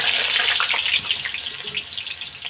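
Potatoes drop into hot oil already tempered with cumin and bay leaf, frying in a pan for a home-cooked Bengali potato curry, giving a steady hissing sizzle close by that eases slightly toward the end, with no talking.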